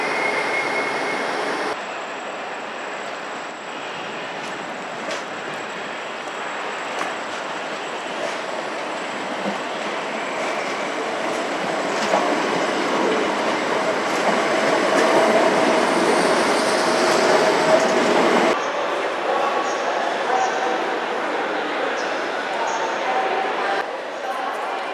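A Southeastern train rumbles along the platform at London Waterloo station, its wheels squealing now and then, while someone talks over the steady rolling noise.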